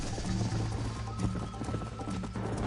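Rhythmic clip-clop of horse hooves trotting at a steady pace in Red Dead Redemption, close and continuous, with a low ambient hum underneath.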